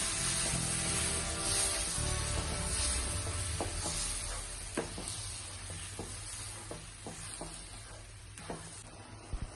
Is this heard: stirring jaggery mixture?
yes